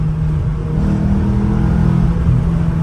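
A Renault Twingo engine held at high rpm, a loud, sustained in-cabin drone with a strong low hum and slight wavering, no talking over it.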